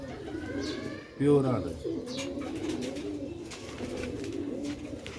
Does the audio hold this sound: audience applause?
no